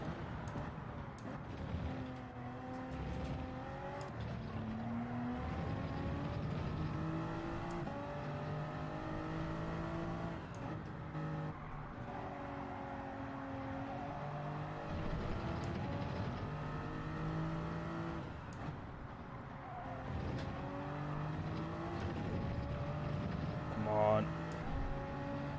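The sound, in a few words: race car engine at Monza, from video game Gran Turismo 7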